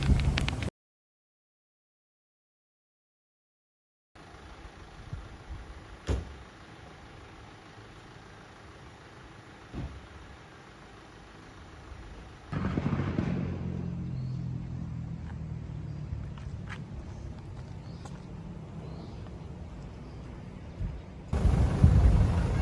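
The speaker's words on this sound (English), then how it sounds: "It's the weekend and there's a lot of traffic." Weekend road traffic passing a pub garden at the Rovers Inn in the Cameron Highlands, Malaysia: a steady low engine rumble of vehicles going by, rising into a louder, closer heavy-vehicle roar partway through, with no talking.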